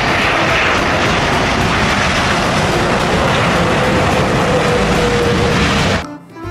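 A toy airplane sound effect roars steadily and loudly in a continuous engine-like drone, then cuts off abruptly near the end, leaving brief quiet.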